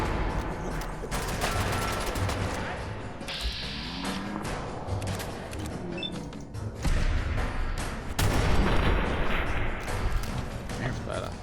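Bursts of video game gunfire from Fallout, a mix of rapid automatic shots and heavier thuds with a reload pause, loud and close throughout, with someone talking over the shooting.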